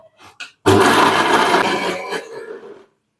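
A kitchen mixer grinds garlic chutney in one loud, dense whirring burst of about two seconds that then fades, after a few short knocks.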